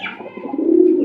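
A Lahori pigeon at a pigeon farm in Gazipur gives one close, loud, rolling coo that rises and holds for about a second.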